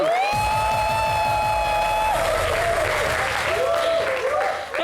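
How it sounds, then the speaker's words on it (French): Loud audience applause with cheering fills a live Ivorian TV variety show set, dense clapping continuing throughout while a sustained musical tone and voices run over it. "public de sa bouche, applaudissez encore pour vous"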